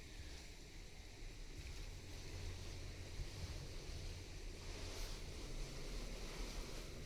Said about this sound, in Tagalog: Lalo na ngayon malakas ang hangin.